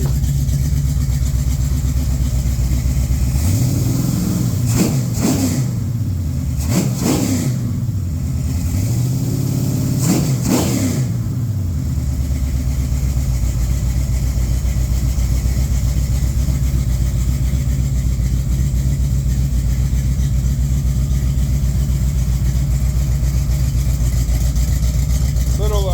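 A very mild 1972-cast Chrysler 340 V8 bored .030 over, with a smooth freshly broken-in cam, idles steadily up close and is blipped in three short revs early on before settling back to a loud, even idle.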